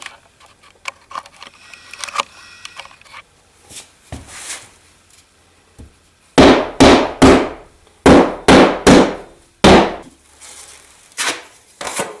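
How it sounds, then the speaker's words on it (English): A hammer drives nails into drywall in quick sharp bursts, a series of loud close blows in clusters after quieter tapping and handling noises. "What we'll do is take a hammer and we'll pop them in."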